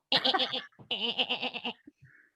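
Improv performer vocally imitating a goat during a live comedy show, giving two bursts of loud, wavering bleats with a brief pause between, close and clear.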